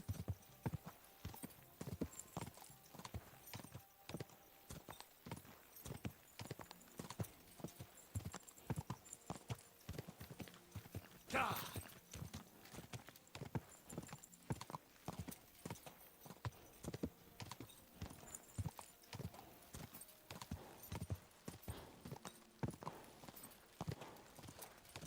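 Horse hooves clip-clop steadily in Kingdom Come: Deliverance 2, a continuous run of close, crisp hoofbeats lasting throughout with a brief louder burst midway.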